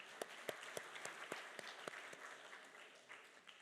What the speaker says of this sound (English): Take a round of applause for yourselves